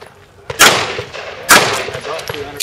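Two loud gunshots about a second apart at a shooting stage, the first a little after the half-second mark and each followed by a brief rumbling tail, with no talking.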